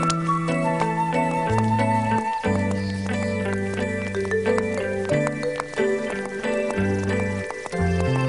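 Cartoon horse trotting in a Wizard of Oz animated series, light rhythmic hoof clops set against a loud, busy orchestral music score.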